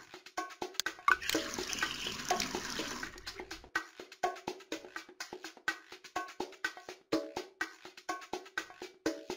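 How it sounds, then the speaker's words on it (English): Water sounds play as a pony is given water in a cartoon game, with a short running, splashing burst early on, followed by a series of quick, light, evenly repeating clicks or taps. "Let's give our pony more water, el agua."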